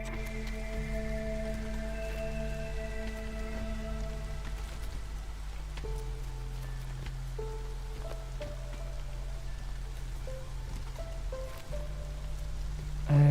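Drizzle in the Against the Storm video game: a steady, soft patter of rain on surfaces beneath sustained musical tones, continuous throughout with no voices.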